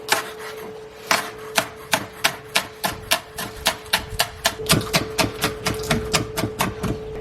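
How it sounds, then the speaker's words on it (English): A knife chopping green onions finely on a board, a run of about twenty-five sharp, evenly spaced close knocks that speed up slightly toward the end, with a faint steady hum underneath. "I have some green onions. I'm gonna do some of those, cut them up as finely as I can."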